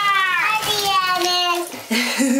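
Bath water splashes and sloshes in a bathtub under a child's high, sing-song voice and an adult talking, the water faint beneath the chatter.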